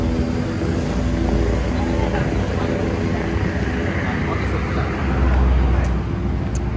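Sport-class motorcycles at a gathering in Makassar, a continuous low engine rumble and traffic drone with a louder swell near the end, while a voice talks over it.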